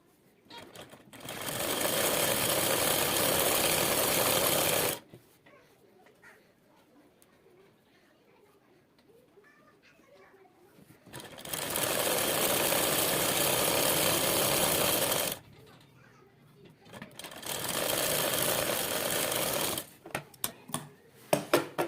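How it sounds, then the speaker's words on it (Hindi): A sewing machine stitches along the inner seam of a girls' trouser in bursts of steady whirring, running for several seconds, pausing while faint talk is heard, then running again twice, close and loud. "इस तरह से बराबर करते हुए हम सिलाई लगाते चले जाएंगे"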